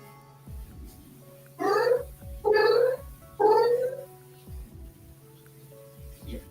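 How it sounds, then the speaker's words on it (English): A house cat gives three drawn-out meows in quick succession, fairly close and clear, over a low steady hum with soft ticking taps in the background. "Your cat."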